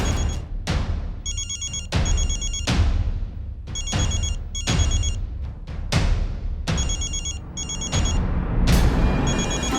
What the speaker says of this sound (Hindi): फोन बज रहा है आपका, उठाइए पहले।